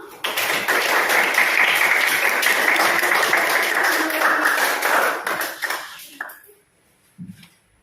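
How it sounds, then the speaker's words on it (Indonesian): A classroom of students breaks into applause, dense steady clapping for about six seconds before it fades and stops, followed by a short faint knock. "Beri aplaus dulu dong."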